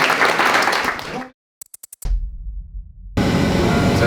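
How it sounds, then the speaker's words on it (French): A group applauds loudly at the end of an event day, clapping that cuts off abruptly, followed by a few sharp isolated claps, a low rumbling passage, and then more dense clapping, with speech mixed in. "Je pense qu'on peut s'applaudir pour cette belle journée."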